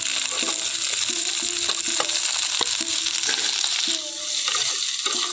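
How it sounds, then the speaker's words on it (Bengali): Kundri, potatoes and onions frying together in a pan, a steady loud sizzle broken by repeated scraping stirs of a spatula, no voices. "কুন্দলি আর আলুটা আমি মোটামুটি ভেজে নিয়েছি এখন আমি কেটে রাখা পেঁয়াজগুলোও একই সঙ্গে দিয়ে দিচ্ছি"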